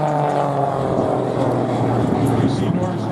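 A propeller airplane drones steadily at an air show in Camarillo, a constant engine hum holding near and loud throughout.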